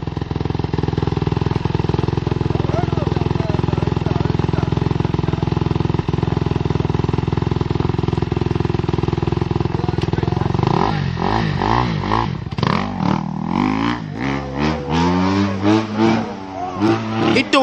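A motorcycle engine drones loudly and steadily at a nighttime outdoor gathering, then breaks into a series of sharp, rising and falling revs, close by and dominating the scene.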